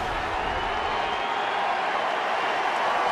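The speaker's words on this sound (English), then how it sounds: "Crowd applauding Greinke as he goes back to the dugout" A ballpark crowd applauds and cheers for pitcher Greinke at a Dodgers baseball game, a broad, steady wash of clapping and crowd noise with no single voices standing out.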